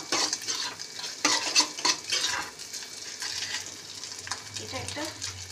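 Fish roe frying in a pan with salt and turmeric, a close crackling sizzle with scraping stirs and occasional utensil clinks against the pan, steady throughout.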